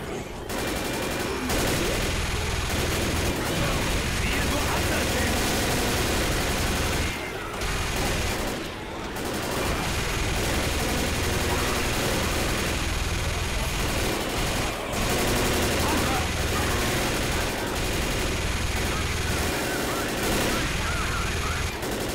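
Sustained automatic fire from a mounted gun in the zombie shooter Left 4 Dead, a dense continuous roar of rapid shots lasting over twenty seconds with only brief pauses, loud and close, with chaotic game noise mixed in.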